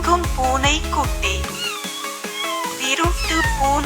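A kitten meows repeatedly in a sing-song way over a bouncy children's tune with a steady beat. The cries are close and bright, and there is a brief quieter break midway.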